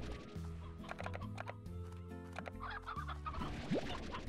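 Chickens cluck repeatedly in the video game Slime Rancher, soft clucks layered over a steady melodic game music backdrop.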